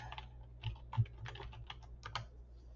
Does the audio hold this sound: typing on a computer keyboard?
yes